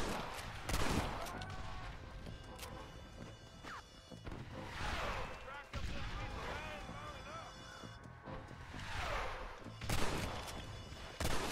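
Gunfire in Red Dead Redemption 2 during a multiplayer escape cracks out as scattered shots and short bursts, some near and sharp, others more distant, while players talk over the action.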